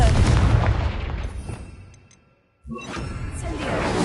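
Confringo explosive spell cast in the video game Hogwarts Legacy: a loud, booming burst of roaring blast noise that fades away, a brief silence, then another heavy rumbling crash.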